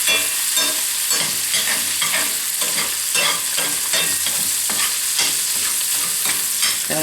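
Sausage frying in a pan until crispy, its fat kept for gravy, gives a steady, loud sizzle with stirring scrapes throughout and no talking.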